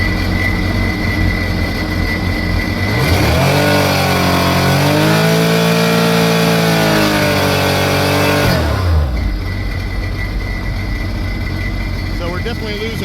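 A Sea-Doo RXT personal watercraft engine with oil pressure issues revs up to 6,500 rpm, a loud rising whine that holds steady for several seconds before dropping back to idle.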